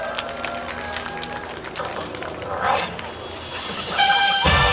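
Audience applause at an outdoor peace concert, moderate clapping from the crowd that swells midway and again near the end with cheering, under faint background sound.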